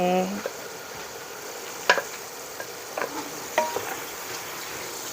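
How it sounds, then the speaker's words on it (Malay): Chopped peeled tomatoes sauté in a pan for Bolognese, giving a steady soft sizzle broken by a few sharp spoon scrapes and clicks against the pan. No one talks. "kita tumis sikit sebelum kita masuk daging"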